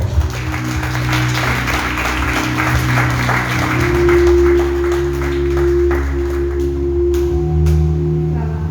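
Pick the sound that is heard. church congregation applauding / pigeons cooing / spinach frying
church congregation applauding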